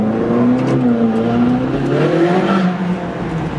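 A Ferrari 458 Speciale accelerates hard, its loud engine note climbing and wavering in pitch as it pulls away, close and dominant with no voices.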